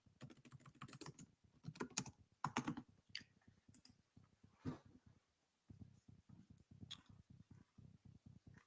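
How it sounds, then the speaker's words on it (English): Keys on a computer keyboard tapped in quick bursts, rapid clusters of clicks separated by brief pauses, then a steadier run of even keystrokes near the end, close and fairly quiet with no talking. "I'll just type it in."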